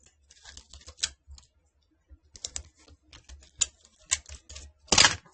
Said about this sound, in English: So I'm going to tape it down.